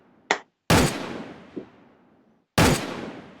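Headshots ring out in a shooting video game, one short crack and then two loud, close gunshots spaced well apart, each with a long echoing decay.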